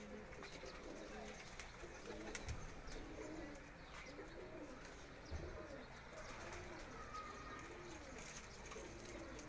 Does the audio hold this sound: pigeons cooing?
yes